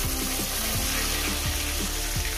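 Pieces of rohu fish fry in hot oil for a spicy rohu curry, a dense, continuous close-up sizzle and bubble with no talk.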